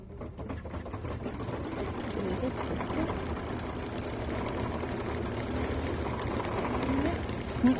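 Sewing machine stitching a watermelon shaker key chain, a steady fast mechanical whirring and needle rattle running continuously and close throughout.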